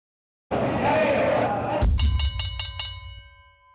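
The stock market opening bell rings out with bright, evenly spaced metallic strikes after a burst of crowd noise and applause, its tone ringing on and fading over the last second or two.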